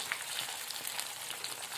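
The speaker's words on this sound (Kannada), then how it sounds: "ಇವಾಗ ನೋಡ್ರಿ ಎಣ್ಣೆಗ ಫ್ರೈ ಮಾಡ್ಕೊಳಗತ್ತೀನಿ ಬಟಾಟಿ" Potato pieces frying in oil for a sago phalahar dish, giving a soft, steady sizzle with faint crackle throughout, fairly quiet and without talk.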